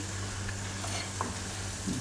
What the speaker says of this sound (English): your oil also is not super hot when you begin the frying